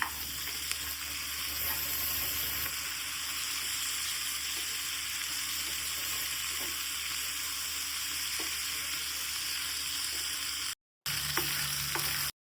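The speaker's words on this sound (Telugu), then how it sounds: "జీడిపప్పు బాదం పప్పు వేసి వేపాలి ఇప్పుడు టమాటాలు వేసి వేసుకోవాలి" Onions, cashews, almonds and tomatoes fry in a pan for a Telugu chicken curry masala, giving a steady, close sizzle throughout with a brief gap near the end.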